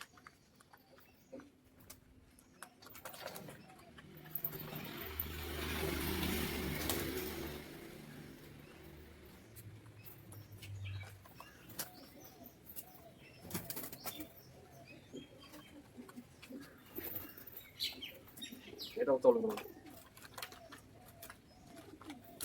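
Pigeons in a loft housing fourteen birds, with soft cooing, rustling and brief wing flaps that continue throughout, a louder flurry of flapping near the end.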